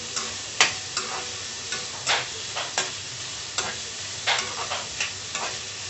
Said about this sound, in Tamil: இப்போ இந்த ஆனியன் போட்டாச்சு, கொஞ்சம் ராஸ்மெல் போகிற அளவுக்கு நம்ம ஃப்ரை பண்ணிக்கலாம்.